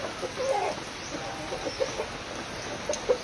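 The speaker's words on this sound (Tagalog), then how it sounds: "Yan, mga Rhode Island na manok." Rhode Island Red chickens cluck in short, scattered bursts against a soft background hiss, a few birds close by with gaps between calls.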